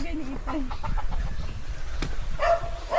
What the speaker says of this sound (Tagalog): Kulay black na chicken.